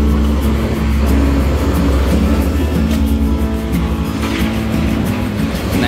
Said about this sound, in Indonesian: karena di pinggir pantura ya teman-teman tuh, banyak truk besar-besar,